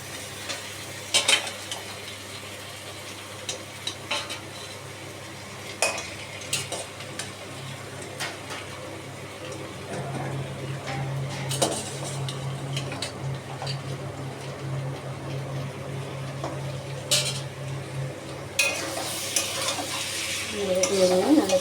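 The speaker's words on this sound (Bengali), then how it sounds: "এবার আমি মাংসটা মশলার ভিতরে দিয়ে দেবো, দিয়ে এই আর জল দিয়ে অল্প অল্প করে আমি কষিয়ে নেব।" Mutton being sautéed in spice masala with a splash of water, close stirring scrapes and soft sizzling in a pot with occasional utensil clinks, no talking.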